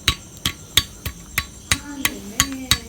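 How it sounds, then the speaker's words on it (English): Hammer blows on a Yamaha RXZ motorcycle engine crankshaft held in the hand during engine disassembly, about ten sharp metallic strikes at a steady rhythm, close and fairly loud, with faint ringing between hits. "So you need to hold the crank like this in your hand,"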